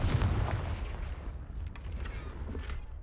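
A Confringo blast spell erupts in Hogwarts Legacy, a booming explosive burst that opens loud and then settles into a sustained rumbling roar, heard alone without talk.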